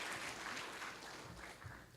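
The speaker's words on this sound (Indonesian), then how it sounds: "Kita beri tepuk tangan untuk para keluarga." A graduation ceremony audience applauds the graduates' families, a dense, even clapping that is somewhat distant and fairly faint and lasts a couple of seconds.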